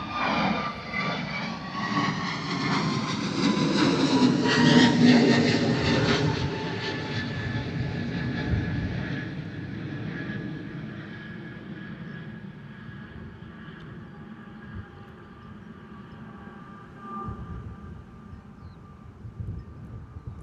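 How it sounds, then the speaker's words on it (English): Airbus A320neo jet departing Bristol Airport, its engines building to a loud roar that peaks and then slowly fades into the distance as it climbs away, with whining tones drifting downward and no voices. "Landing gear stayed down for a while there on that departure from the 320neo."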